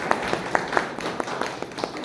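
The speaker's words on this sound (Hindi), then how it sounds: "तो ताली बजाएं एक बार," Scattered hand claps from parents at a school meeting for class 2 parents, a sparse, uneven patter of individual claps at moderate distance, fairly quiet in a room.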